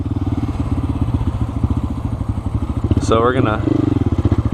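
A Honda Grom motorcycle engine chugs steadily and close by as a rider speaks over it, with a brief higher rev surge near the end before it settles back into a rough rhythmic idle.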